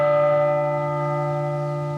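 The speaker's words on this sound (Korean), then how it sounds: "센서에 가까울수록 종소리가 납니다" Sensor-triggered bell in a Buddhist-themed maze park rings once, a clear resonant chime with rich sustained overtones that slowly fade over two seconds, close and alone.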